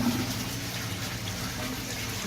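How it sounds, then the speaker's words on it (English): Water drains steadily through a siphon out of a rain barrel sump tank in an aquaponic system, a continuous low gurgling rush at close range with no breaks. "it creates a vacuum and drains all the water out except for like 2 inches of the bottom"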